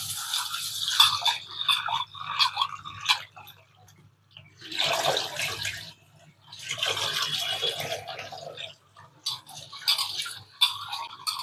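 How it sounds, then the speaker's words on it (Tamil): Urad dal being rinsed by hand in a vessel of water, with bursts of swishing, sloshing and trickling water separated by short pauses, close and moderately loud. "அதே மாதிரி உளுந்தையும் கழுவி எடுத்துக்கலாம்"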